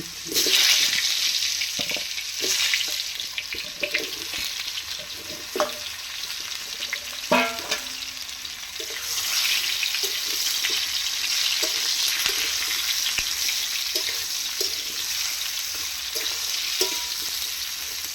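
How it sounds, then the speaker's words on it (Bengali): Cut raw mango pieces sizzle and fry in hot spiced oil for a mango pickle, with steady loud crackling and occasional scraping stirs of a spoon against the pan. "একটুখানি নেড়ে নেড়ে ভাজতে থাকবো"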